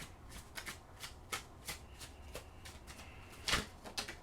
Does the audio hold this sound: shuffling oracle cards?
yes